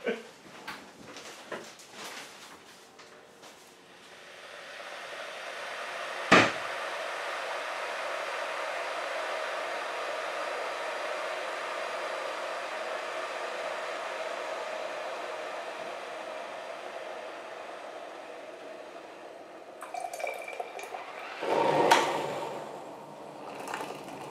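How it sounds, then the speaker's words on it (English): A pump runs steadily for a long stretch, drawing air out with a continuous whooshing hum that follows a clack, with handling noises and clatter at the start and end. "just pumping air out now. Right, the pump is almost to the max."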